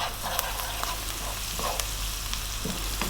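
Ginger garlic paste sizzles and crackles steadily in a pan over above-medium heat, with occasional light stirring scrapes over a low hum, close and moderately quiet.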